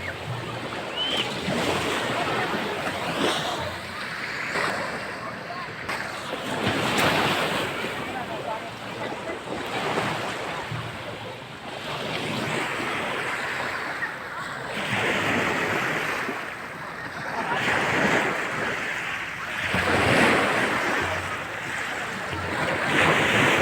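Sea waves wash onto the shore in repeated surges that swell and recede every few seconds, with gusts of wind buffeting the microphone throughout.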